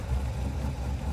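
A turbocharged race car engine set up for a Pikes Peak hill climb cold-starts and idles, a steady low rumble held close and even throughout with no talk.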